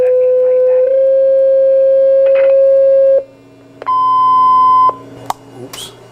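A phone that will not switch off gives out long steady electronic beeps, first a lower tone and then a higher one, with brief pauses between them, loud and close, followed by a few clicks and handling noises.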